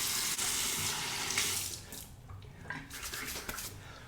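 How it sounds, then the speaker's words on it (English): Hot water running from a tap and splashing in a sink while it is scooped onto a face before a shave: a steady broadband rush with irregular splashes and gurgles, close and fairly quiet. "I applied vigorous or generous amounts of hot water to my face"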